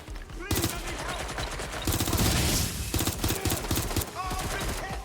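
Rapid bursts of drone gunfire in Watch Dogs Legion, with dense automatic volleys rattling close and loud, broken by short pauses, while voices shout underneath.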